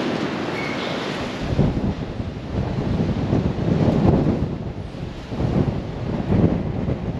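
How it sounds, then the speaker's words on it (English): Strong wind roars and gusts against a large shed outdoors, surging in loud buffeting waves with heavy microphone rumble and no talking. "The wind, bloody hell, check this out."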